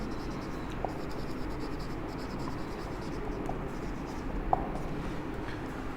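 Pen or marker writing on a board during an ethics lecture, a faint continuous scratching with a few small taps, steady and quiet throughout.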